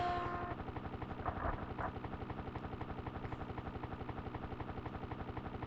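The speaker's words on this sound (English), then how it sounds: "Although I'm pretty certain that a helicopter would not fly this low." A helicopter in the video game Desert Strike: Return to the Gulf flies low with a steady, fast rotor chop that pulses evenly throughout. A brief burst of gunfire or explosion sounds near the start.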